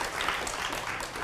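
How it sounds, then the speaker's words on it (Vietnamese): Audience applause at a Vietnamese entertainment show, a brief, moderately quiet burst of clapping that holds steady for a moment. "Cho một tràng pháo tay nữa để Lá Chầu Xanh xuất hiện"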